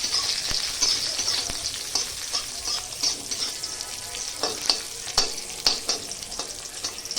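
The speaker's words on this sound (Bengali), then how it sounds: "প্রথমে আমি কাজু কিশমিশটা ভেজে নেব।" Cashews and raisins fry in hot oil, a crackling sizzle punctuated by repeated scraping stirs and clinks of a spatula against the pan, close and moderately quiet.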